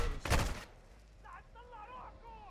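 A short burst of gunfire in the shooter game Call of Duty: Modern Warfare II (2022), loud and dense for about half a second, followed by quieter game ambience and faint chatter.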